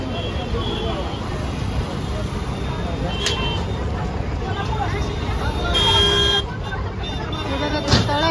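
Congested road traffic in Maharashtra along a pilgrimage route, with a constant engine rumble, a couple of short car horn toots standing out, and people talking over the noise.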